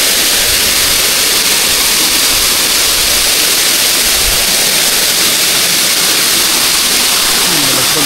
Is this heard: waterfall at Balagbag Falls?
yes